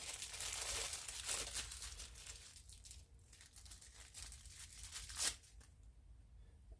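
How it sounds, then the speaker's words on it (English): Packaged LS engine rocker trunnions being unwrapped, soft crinkling and tearing of packaging at close range with one sharper rip near the end, quiet and with no talking. "You unwrap them."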